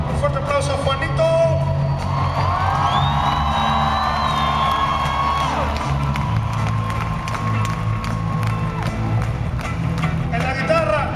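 A concert crowd at a live show in Chicago claps, cheers and whoops continuously and loudly, with guitar and voices mixed into the dense crowd noise.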